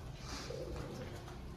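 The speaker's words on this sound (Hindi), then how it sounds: "कबूतरों ने खाना ऑलमोस्ट खा लिया है, टहल रहे हैं इधर से उधर" Wild pigeons coo softly on a rooftop after eating, walking about in a low, continuous murmur.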